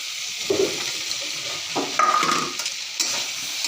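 Boiled potatoes and eggplant stirred in a pan, with a soft sizzle underneath and a few distinct scrapes and clinks of the utensil against the pan, spaced out and close.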